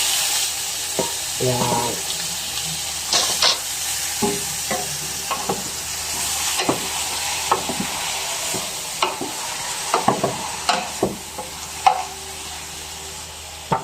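Beef chunks hit a pan with onion and garlic for caldereta, giving a steady close sizzle with repeated scraping stirs and clinks throughout; a voice speaks briefly at the start.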